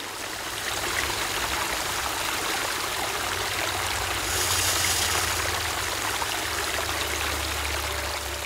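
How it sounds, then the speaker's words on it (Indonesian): Muddy waterfall near a mine pours in a constant broadband rush, steady and fairly close, with a low rumble underneath and no voices. "Itu bukan lagi air terjun, tapi sudah lumpur terjun."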